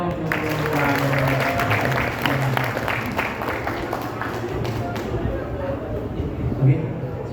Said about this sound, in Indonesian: Oke teman-teman, kasih tepuk tangannya dong untuk Pak Ampera.